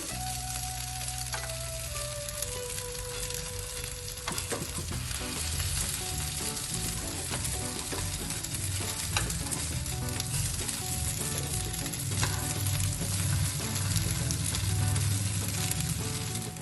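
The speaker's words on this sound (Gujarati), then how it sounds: "ટિક્કી બે બાજુથી સરસ શેકાઈ ગઈ છે." Spinach and poha tikki frying in a pan, a steady, close hiss and sizzle of oil running throughout with small crackles and pops, no voices.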